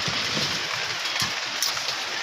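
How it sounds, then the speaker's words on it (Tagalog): A steady, dense hiss of heavy rain pours down without a break, loud and close, with no talking. "Lakas ng ulan mga idol, inabutan tayo."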